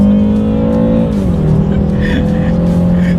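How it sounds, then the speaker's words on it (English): A 2019 BMW 330i sedan with xDrive accelerating hard in sport mode on back roads, a loud, close engine note climbing in pitch, dipping at a gear change, then rising again. "let's do a quick little acceleration on these back roads, see how quickly we can get the new 2019 330i sedan here, X-Drive, in sport mode here"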